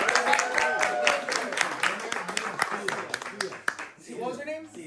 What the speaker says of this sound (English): Let's give another round of applause to Joseph and his wife for hosting